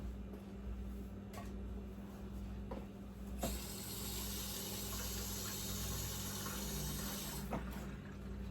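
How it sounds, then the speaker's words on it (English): Tap water runs steadily over hands being rinsed, a close, continuous broadband rush that swells after a few seconds and holds before easing near the end, with occasional small knocks. "another quick rinse on my hands"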